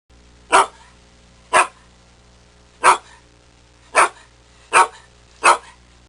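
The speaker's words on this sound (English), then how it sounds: "D is for dog." A dog barks six times in single sharp, evenly spaced barks, close and clear, with quiet pauses between them.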